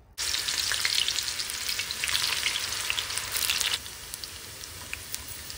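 Freshly fried raw banana shreds are lifted from hot oil into a strainer, with a loud crackling sizzle of bubbling oil and scattered pops that drop suddenly in volume partway through as the shreds leave the oil.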